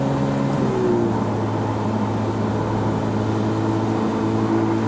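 A 2005 Ferrari F430 Spider cruises steadily on a sunny South Florida road, its engine a sustained, even drone with a faint harmonic rise early on, loud and continuous with no talk.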